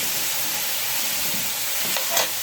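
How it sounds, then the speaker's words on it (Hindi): Carrot and bell pepper frying in a pan, a steady close hiss of sizzling oil throughout with a couple of brief stirring scrapes near the end. "40 सेकंड तक हमने ये जो कैरेट है इसको हमने फ्राई करना था और 40 सेकंड तक ही हमने शिमला मिर्च को"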